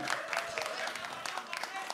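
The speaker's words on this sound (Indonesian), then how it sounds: "Sekali lagi tepuk tangan untuk Kang Arfi." Audience at a heated regional head candidate debate in Rengasdengklok applauds steadily, a dense near wash of clapping with some crowd noise and a voice faintly over it.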